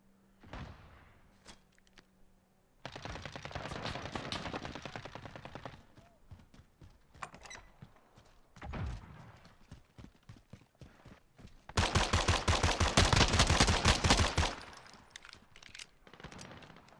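Pistol fire in Call of Duty Modern Warfare (2019): rapid bursts of shots come in two loud stretches, with scattered single shots and quieter game noise in between.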